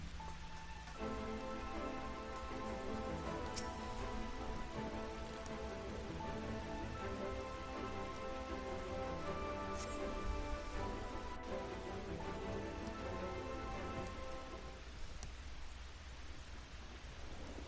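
Steady rain falls in the Final Fantasy XIV video game, a constant hiss of drops on surfaces with faint musical tones layered over it, continuous and even throughout.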